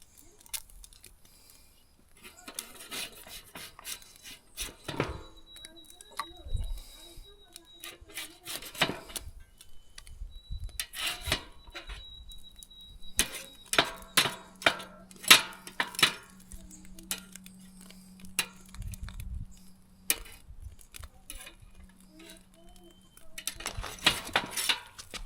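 Fresh mackerel stuck to a smoker grill being scraped off in pieces: scattered metallic scrapes, taps and rasping strokes come in irregular bursts, close and fairly quiet, with little talk.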